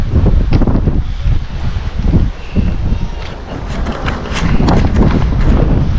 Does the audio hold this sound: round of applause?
no